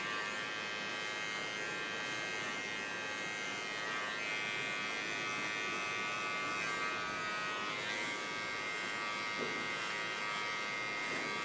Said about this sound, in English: Get to my fine clipper. Set out a nice sharp sideburn.